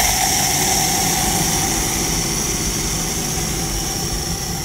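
A vintage RV engine runs loudly with its engine cover off, a steady, close, droning idle that stays even and unbroken throughout.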